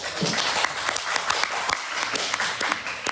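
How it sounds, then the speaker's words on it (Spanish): An audience claps in a steady, dense round of applause, close and fairly loud, with a few sharper individual claps standing out and faint voices underneath. "Bueno, aplausos."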